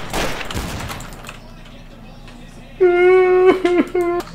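Gunfire in Garry's Mod: a burst of sharp shots at the start, followed by a quieter stretch and then loud tonal in-game effects, with a voice briefly present.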